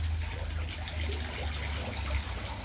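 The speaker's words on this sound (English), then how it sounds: "it's currently a Maidenhead Aquatics raised pond system with a homemade shower" Water trickles and splashes steadily through a pump-fed homemade shower filter on a Maidenhead Aquatics raised koi pond, a close, continuous outdoor patter over a low rumble.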